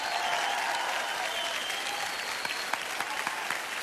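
An audience bursts into loud, dense applause for a band on a televised singing competition stage, steady clapping throughout with a few sharper claps toward the end.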